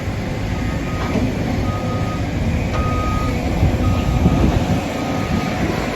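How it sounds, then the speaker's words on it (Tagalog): A mainline digger's engine runs steadily while it breaks down dirt nearby, a loud continuous low rumble with faint reversing beeps in the background. "let's watch our mainline digger breaking down the dirt over there"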